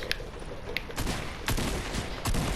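Fortnite gunfire during a fight, a quick string of sharp shots and cracks popping over a busy game backdrop, fairly loud and close.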